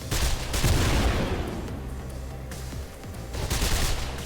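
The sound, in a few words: assault rifle gunfire in the video game Mirror's Edge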